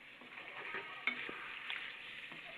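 Spiced chicken with pepper and cumin frying for Gujranwala-style spicy biryani, stirred in a pan: a steady soft sizzle with scattered scraping and clinking of the spoon against the pot, moderately quiet and continuous.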